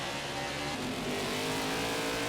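Race car engine in NASCAR 21: Ignition on the Bristol dirt track, a loud continuous roar holding steady under throttle with layered engine tones and no pauses.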